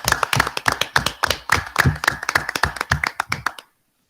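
Small group clapping at a school committee meeting, a brisk run of sharp, close handclaps in steady rhythm that stops abruptly, with no talk over it.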